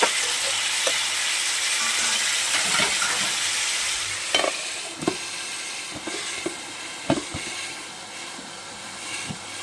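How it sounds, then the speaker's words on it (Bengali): Vegetables frying with salt in a pan for a cauliflower and potato fish curry, a steady crackling sizzle broken by several sharp spatula knocks and scrapes, close with no talk. "লবণ দিয়ে আর একটু ভেজে নেবো"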